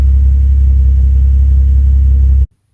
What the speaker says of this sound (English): the transmission was making some pretty horrid noises